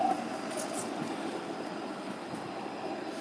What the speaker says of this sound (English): Oh, there goes a Queen streetcar.